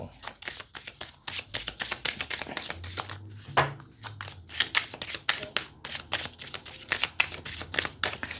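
Oracle tarot cards being shuffled close by: a quick, steady run of crisp riffling flicks and soft slaps that keeps going for about eight seconds with no talking.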